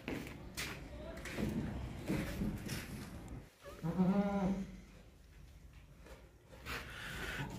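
Goats at a farm holding does, kids and bucks bleat through a noisy scene, one clear, drawn-out bleat standing out midway among shuffling and background voices.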